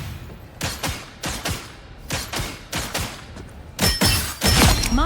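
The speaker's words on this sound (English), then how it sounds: "Her primary unleashes a quick volley of bolts in a set pattern that deals quite a lot of damage" Psylocke's Psionic Crossbow fires in a video game, loosing rapid volleys of bolts as a string of loud, sharp bursts roughly every half second, thickening into a denser barrage near the end, with no talking.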